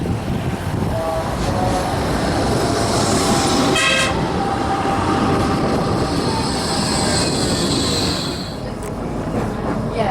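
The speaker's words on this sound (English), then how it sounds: "Down there's a Flex 2 tram coming up" A Flexity 2 tram approaches along a Blackpool street, with a loud steady rumble of wheels and traffic throughout and a brief horn toot near the middle.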